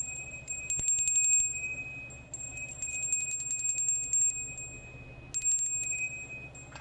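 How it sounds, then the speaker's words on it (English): A small bell rung in quick, bright bursts of rapid strikes, three separate clusters with short pauses between, close and clear against a low steady hum. "I'm going to ring the bell"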